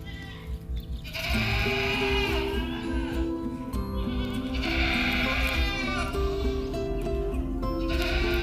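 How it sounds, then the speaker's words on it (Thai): Goats bleat repeatedly beside a kale vegetable garden, their wavering, nasal cries loud and close, overlapping in a continuous chorus across the whole stretch with farmyard background noise underneath. "เสียงแพะร้องเลยนะคะเนี่ย"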